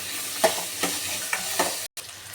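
Onions roasting in a pan for green pea kurma, giving a steady low sizzle broken by four or five stirring scrapes, near and moderately quiet, with no talk.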